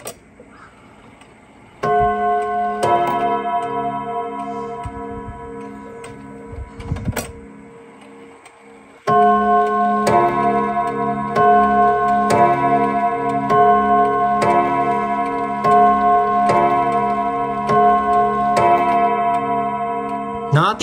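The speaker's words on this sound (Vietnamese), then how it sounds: "Tiếng chuông cũng khá là ok anh em nha. Đó, cho nghe chuông lại một cái nữa nè." A Japanese pendulum clock with a gold-plated pendulum strikes its chime in two long runs of ringing, evenly spaced bell tones, loud and near, with a short quiet gap between the runs.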